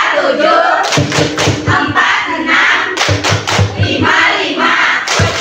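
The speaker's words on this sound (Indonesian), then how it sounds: "Oke, tepuk tangan untuk kita semua." Classroom training group in Indonesia clapping in a counted rhythm, sharp unison claps in bursts of several beats with short pauses between, close and loud alongside some voices.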